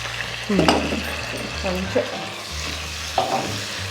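Finely sliced onion and tomatoes fry in oil and butter for restaurant-style butter paneer, a steady close sizzle with a low hum beneath and a few scraping stirs of a spoon in the pan.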